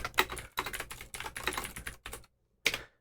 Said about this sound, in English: I am not typing well today,